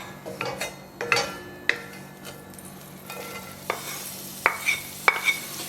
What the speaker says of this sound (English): As this butter melts, we will start adding the onions to the pan.